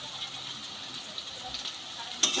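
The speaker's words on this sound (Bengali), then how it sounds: "ক্যাপসিকামটাও এই পেঁয়াজের সঙ্গে একসঙ্গে ভেজে নেব" Onion and chopped capsicum frying together in a pan for chilli soybean, a steady soft sizzle running throughout, close and fairly quiet, with a brief clatter near the end.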